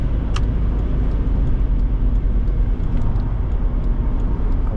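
Engine of a 2004 Mercedes-Benz ML500 SUV on the move, a loud, steady low rumble and road roar inside the cabin, with no talking.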